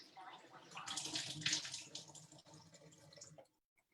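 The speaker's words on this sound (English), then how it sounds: "And I'll use our Kangen water machine." Water from a Kangen water machine pours steadily into a glass, a continuous splashing stream that carries on for about three and a half seconds before stopping abruptly.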